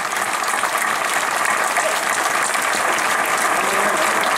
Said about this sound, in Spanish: Fuerte aplauso para todos ellos.